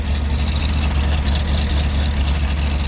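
A Pontiac Ram Air 4 engine idles steadily up close at the exhaust, a deep rumbling exhaust note holding an even, throaty drone throughout.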